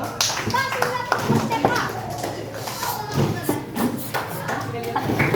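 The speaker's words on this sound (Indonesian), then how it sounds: "tepuk tangan dulu" Schoolchildren in a classroom clap together, uneven scattered claps mixed with lively children's voices and chatter, fairly close and continuous throughout.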